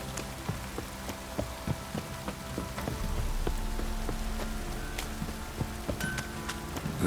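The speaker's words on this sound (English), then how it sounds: "Looks like rain." Rain falling in the open world of The Witcher 3: Wild Hunt on PS5, a steady, moderately loud patter with scattered drops, under a low game music bed.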